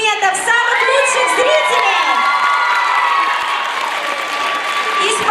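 Audience members at a talent-show qualifying round in a culture hall clap, cheer and shout, a loud sustained roar of applause with whoops and high children's voices, music playing along underneath.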